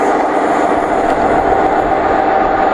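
A loud, steady rumbling roar of a Direct Rail Services locomotive-hauled train passing close by at Long Buckby, constant throughout with no pauses or voices.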